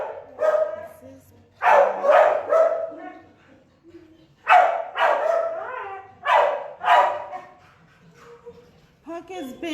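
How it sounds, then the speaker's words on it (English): A stressed shelter dog barks repeatedly in bursts of loud, close yips and bow-wows, with short pauses and a whimpering edge, echoing in a kennel room. "He's just barking because he's stressed and he wants to get out of here."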